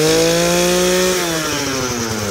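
A Bolens HT-23 garden tractor engine runs just after a fresh carburetor service, a loud, close, steady buzzing drone whose pitch drops slightly partway through as the revs ease off.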